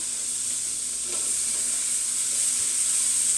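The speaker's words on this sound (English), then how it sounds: "we're going to add in our Spam and get that frying" Steady, close sizzling of cubed Spam frying in butter in a pan, a constant bright hiss with occasional faint clinks, no voices.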